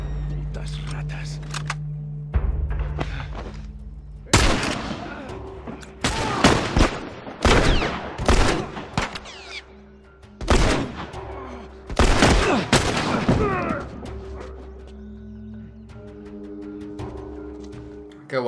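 Bursts of rapid gunfire and single sharp shots in the video game The Last of Us, uneven clusters, loud and close, with quieter stretches and a low background tone between volleys.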